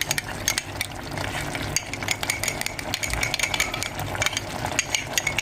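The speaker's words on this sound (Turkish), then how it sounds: "Onu güzelce bir çay bardağı kadar suyla ezip sos haline getireceğim." A spoon mashes and stirs tomato paste with a little water into a smooth sauce, making steady, rhythmic scraping and clicking against the bowl, close and continuous.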